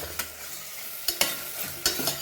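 Frying with asafoetida in a pan for a Goan stuffed eggplant and dry shrimp dish, a soft sizzle broken by a few sharp clinks of stirring, close and fairly quiet.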